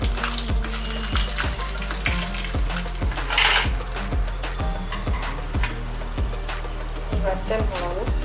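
Tempering for jackfruit erissery sizzles and crackles in hot oil in a pan, urad dal and dried red chillies popping in a loud, steady fry, with clattering utensils.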